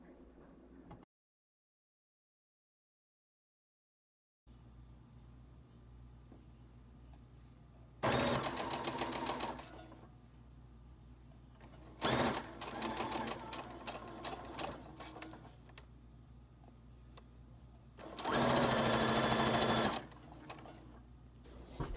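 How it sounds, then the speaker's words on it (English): A sewing machine runs a basic running stitch down a long skirt panel in three loud bursts separated by quieter mechanical hum, with a stretch of silence near the start and no talking. "You want to pin it and you just want to do a basic running stitch down."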